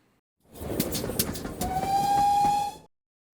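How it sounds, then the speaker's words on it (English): Hornby Class 66 TTS sound decoder in a model diesel locomotive, a brief burst of clattering engine noise followed by a sustained horn tone lasting about a second before cutting off cleanly. "that's the Hornby Class 66 TTS sound decoder you can hear in there"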